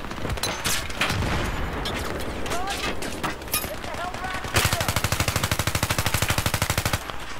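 Machine guns fire in Battlefield 3 gameplay, moving from ragged bursts and single shots to a long, fast, rhythmic run of loud rounds. A few clanking impacts mix in, along with the game's effects.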